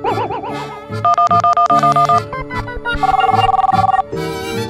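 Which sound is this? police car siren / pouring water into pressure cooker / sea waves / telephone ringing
telephone ringing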